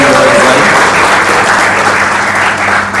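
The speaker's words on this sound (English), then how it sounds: "So a little clap for him on his 4th anniversary as well." Loud, sustained applause from an audience at an off-road driving school's anniversary event, a thick continuous wash of clapping close by with a faint murmur of voices beneath.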